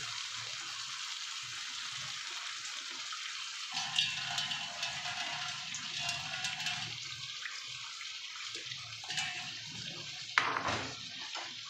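Water poured and rinsed from a bowl of spice paste into a cooking pan while making pabda fish curry, a steady continuous splashing flow with a few brief louder splashes near the end.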